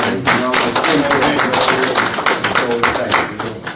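A gathering of parolees breaks into a round of applause, close and loud, hands clapping in a dense burst with a voice speaking over it.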